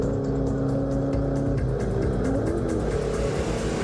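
Holden A9X Torana race car lapping Bathurst, its V8 engine roaring loud and steady close by with continuous revving and gear-driven drone, no talk.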